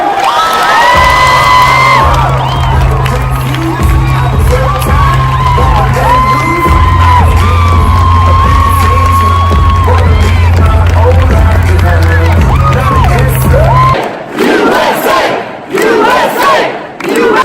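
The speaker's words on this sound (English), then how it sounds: "A round of applause for Charlie Kirk." A large crowd at the SAS 2018 event roars with cheers, whoops and shouts for Charlie Kirk over a deep, steady droning tone. The noise stays loud and continuous, then cuts off sharply into a few scattered bursts of voices.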